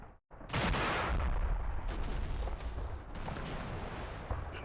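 Sherman tank fire in the WWII game Combat Mission: Battle for Normandy: a sharp, loud cannon blast bursts after a brief silence, then rumbles on with rolling battlefield noise and further dull impacts.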